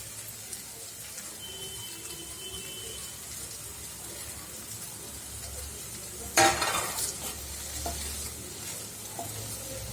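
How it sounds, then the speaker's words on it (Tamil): Paneer egg bhurji cooking in ghee in a nonstick pan gives a soft, steady sizzle with light stirring, and a sharp utensil clatter rings out partway through. "நெய் போட்டு நல்லா விரட்டிக்கணும்"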